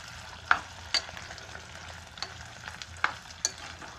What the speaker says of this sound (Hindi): धीमी आंच में इसको फ्राई करते रहेंगे